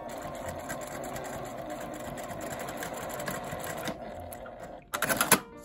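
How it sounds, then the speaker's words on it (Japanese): A sewing machine stitches along a small L-shaped zipper pouch made from a 12 cm zipper and fabric scraps, its rapid steady whirring rattle running close for several seconds before pausing and then resuming in a short louder burst. "押さえを下ろして続けて縫います。"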